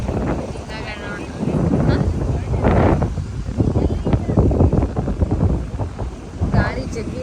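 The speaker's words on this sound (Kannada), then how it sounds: "ಗಾಳಿ ಜಗ್ಗಿ ಐತಿ" Strong wind buffets the microphone outdoors in loud, gusting rumbles while people talk over it.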